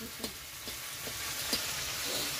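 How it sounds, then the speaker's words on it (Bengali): Prawns are stirred while frying in a pan, giving a steady soft sizzle with faint scraping taps of the spatula, quiet and close, with no talk. "এই পেলে এবার এই ঘাঁটাঘাঁটি হয়ে গেল, নাড়াচাড়া হয়ে গেল।"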